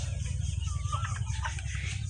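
Layer hens cluck softly and continuously over a steady low hum, their short calls overlapping close by with no talking.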